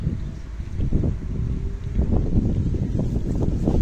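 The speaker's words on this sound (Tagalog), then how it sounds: "Sobrang hangin talaga dito." Heavy wind buffets the microphone with loud, continuous low rumbling and gusts, and no other clear sounds come through.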